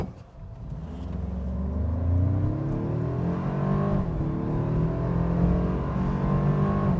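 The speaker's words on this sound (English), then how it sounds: "Let's go ahead and test out the 0 to 60 time for this model here." 2025 Toyota 4Runner Limited hybrid with an 8-speed automatic in sport mode accelerating hard from 0 to 60 slightly downhill, the engine note climbing steadily through the gears in a loud continuous drone with brief shift dips.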